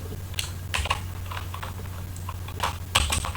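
Fast, irregular keystrokes on a computer keyboard, typed close by with bursts of clicks and short pauses over a steady low hum, no voices.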